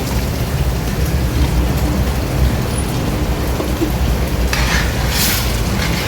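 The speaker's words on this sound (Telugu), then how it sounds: "ఇలా తిప్పుకుంటూ ఉంటే అడుగంటకుండా శుభ్రంగా మనకి కొంచెం ఫ్రై అవుతూ ఉంటుంది" Onion and ginger-garlic paste frying in a pan for a drumstick chicken curry, a steady loud sizzle with scraping stir noises running throughout, a brighter hiss rising near the end.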